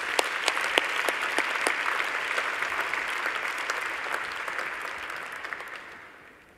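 A medical-school graduation crowd applauds the graduates in a full, steady burst, some sharp individual claps standing out early before the sound fades away near the end.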